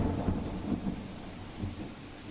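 Heavy downpour in Nadiad, Kheda district, Gujarat, a dense steady roar of rain with low rumbling underneath, continuous and fairly close.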